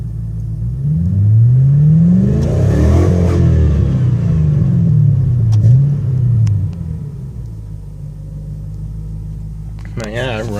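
An engine running on really old gas idles and revs, climbing in pitch through two rising sweeps before settling back to a steady idle; a short clatter comes near the end.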